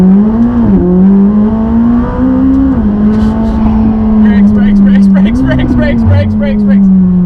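A McLaren 600LT at full throttle, its engine howling loud and close, with the pitch climbing through the gears and dipping at each shift, while people shout over it.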